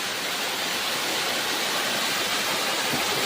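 A waterfall in a natural setting pours steadily, a constant even hiss-like rush of falling water heard up close with no breaks and no talking.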